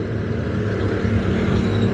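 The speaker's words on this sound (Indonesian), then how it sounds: "Ini ada truk satu baru kelihatan lagi nih" A truck rolls by on a newly concreted road in Parung Panjang, a steady broadband engine and tyre rumble holding close and loud for the whole stretch.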